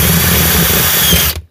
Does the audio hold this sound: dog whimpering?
no